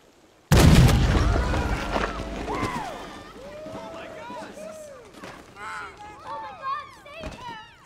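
A cannon fires at the Magician in a video game, one sudden loud boom with a long rumbling decay, followed by voices talking and shouting over the fading echo.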